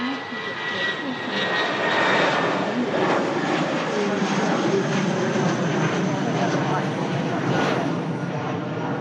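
A British Airways short-haul airliner passes at Manchester Airport, giving a loud, sustained engine roar that fills the whole stretch. A voice talks over it.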